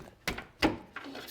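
On a 2020-2025 Kia Soul, a pry bar knocks against a tie rod nub, two firm metallic hits about a third of a second apart followed by a lighter tap, up close with no voices.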